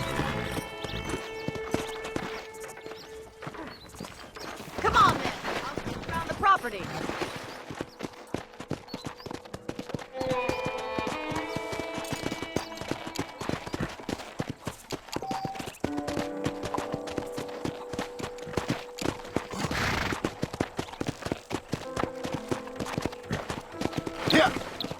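A horse's hooves clip-clop at a steady walking rhythm in Red Dead Redemption, running under in-game dialogue with an occasional snort and faint music throughout.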